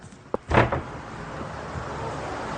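A farmhouse door clicks and swings open toward a horse barn with a short burst of noise and a thud, followed by steady background hiss.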